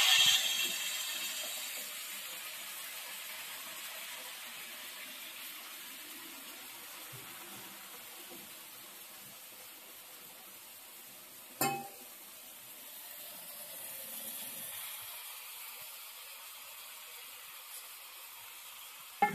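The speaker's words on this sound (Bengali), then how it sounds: "এটাকে আমরা কিছুক্ষণ ফ্রাই করতে দেবো একদিকটা" Chicken pieces fry in hot mustard oil in a kadai, giving a steady, moderately loud sizzle that holds through the clip, with one sharp clink partway in and no talking.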